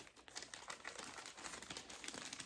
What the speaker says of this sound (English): Then you fold these two in like this, and crease it, and crease it.